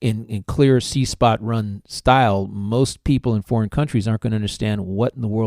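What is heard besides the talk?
No distinct noise like a dog, phone or traffic.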